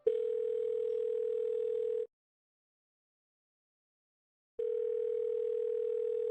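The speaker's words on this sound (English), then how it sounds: "I pull out my phone from my pocket and search for Yuri in my contacts." Ringback tone of an outgoing phone call in a visual-novel game, a steady electronic tone lasting about two seconds, then a pause and a second ring starting, clean with no talk.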